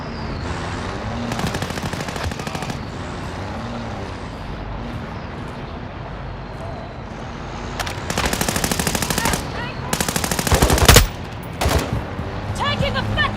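Video game machine gun fire in sustained rattling bursts, several long volleys separated by quieter stretches with distant rumble, loud and close, growing denser toward the end.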